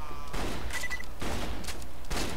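Shotgun blasts in the shooter game Borderlands 2, three heavy close bursts spaced about half a second to a second apart, loud and mostly alone.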